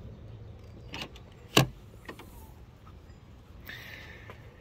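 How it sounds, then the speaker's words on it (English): Rear hatch of a 2019 Volkswagen GTI Rabbit Edition opening, with a few soft mechanical clicks and one sharp latch clack near the start, then a faint whir, all fairly close in quiet surroundings. "How you open up the hatch on this is kind of entertaining."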